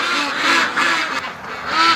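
Muscovy ducks quack loudly and close by in a yard, several harsh calls overlapping in a busy, continuous chorus.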